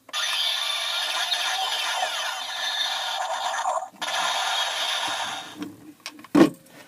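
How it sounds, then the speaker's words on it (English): A buzzy electronic chainsaw effect from a Kamen Rider Ex-Aid DX Buggle Driver toy drones in two long bursts, followed by a few clicks and handling knocks. "and this is your chainsaw sound."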